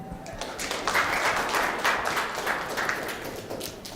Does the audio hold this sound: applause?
yes